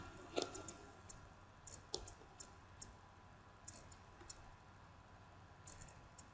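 A computer mouse clicking faintly and sporadically, a few sharper clicks among scattered light ticks, in a quiet room with no speech.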